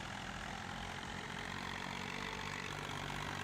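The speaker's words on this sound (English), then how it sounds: "And I love this little tractor." A small tractor engine runs steadily in Farming Simulator 19, a low, even idling drone that holds at a constant level throughout with no talk over it.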